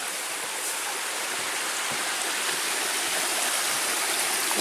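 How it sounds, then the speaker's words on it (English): A small waterfall spills over a rock ledge beside a footbridge in a wintry Pictured Rocks forest, a steady, dense rush of falling water filling the air without pause. "And there's a little waterfall."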